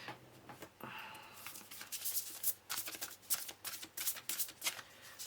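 A deck of tarot cards is shuffled by hand in a quiet room, giving a steady run of soft riffling patters and crisp flicks that grow busier toward the end, with no voices.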